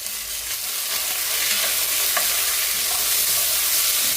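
Onions, green chillies and chopped tomatoes fry for a prawn biryani in a pan, a loud, constant close sizzle broken by a few soft knocks of stirring, with nobody talking.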